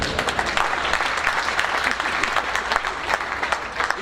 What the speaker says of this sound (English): Can we clap for that tribe?